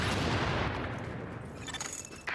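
Rapid gunfire in The Division 2 rattles as a dense, loud fusillade of overlapping shots that thins into scattered cracks and fades toward the end.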